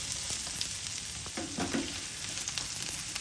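Chopped garlic hits a hot pan and sizzles, a short close crackle with faint stirring scrapes partway through, cooking alone without voices.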